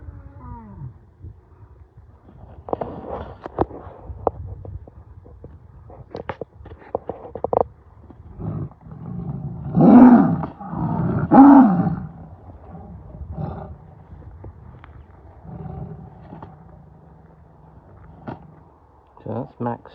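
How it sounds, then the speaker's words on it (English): A tiger growls in two deep, loud rumbling bursts near the middle, amid scattered knocks, rustling and cardboard being torn at an animal sanctuary. "So that's Max growling everybody off."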